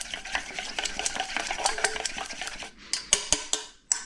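Eggs are beaten in a bowl with a fork or chopsticks for a tonkatsu coating, a fast run of close clicking taps against the bowl, then a few slower, louder knocks at the end.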